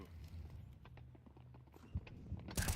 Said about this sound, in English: U-Jerks hears the footsteps, knows they're all here